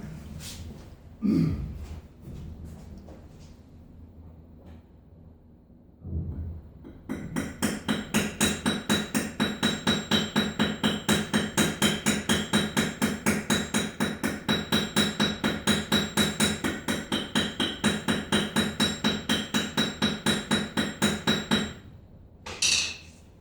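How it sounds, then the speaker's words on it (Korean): A hammer taps a hand plane blade to set it. After a few isolated knocks and handling noises comes a long, even run of rapid metallic taps, about fifteen seconds of steady close strikes, then a final knock. "망치로 한 번 더 치고 오겠습니다"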